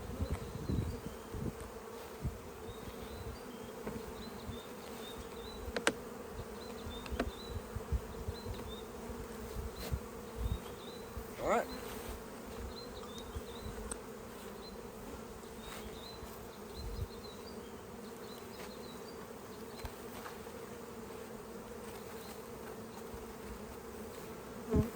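Dense, continuous buzzing of many honeybees close by around an open hive, a steady drone with occasional louder passes as individual insects fly near.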